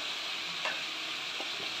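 Chickpeas sizzle steadily in a hot pan for a pumpkin and chickpea curry, with a few soft scraping strokes of a spatula stirring them through the constant frying hiss.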